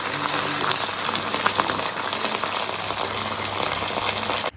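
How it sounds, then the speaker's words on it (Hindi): Garlic and cube-cut vegetables sizzling in a pan, a continuous dense crackle and hiss heard up close, steady for several seconds before stopping abruptly. "बड़ी मज़े की यमी सी सिजलिंग की आपको आवाज़ आ रही होगी इस रेसिपी में"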